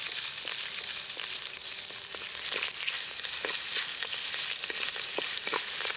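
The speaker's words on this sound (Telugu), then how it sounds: "కరివేపాకు వేగాక పచ్చిమిర్చి వేసుకుందాం" Curry leaves and green chillies frying in hot oil in a pot, a dense, continuous close sizzle with faint crackles and occasional stirring ticks throughout.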